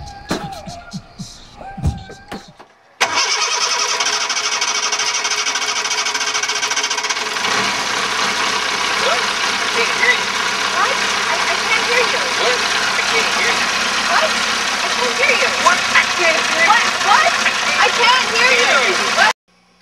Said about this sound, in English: remove a dirty, old, loud diesel engine